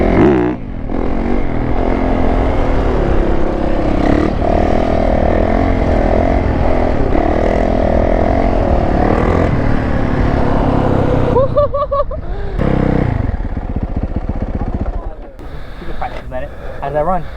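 Yamaha YZ450 dirt bike engine running loud and close, a sustained rough roar with shifting pitch as it rides, then briefly dropping and returning near the end, with people talking over it.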